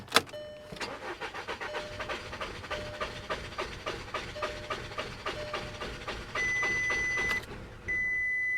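A 2013 BMW 328i engine cranking without catching, a fast rhythmic starter whir-chug repeating steadily for several seconds, then cutting off, with warning chimes ringing near the end.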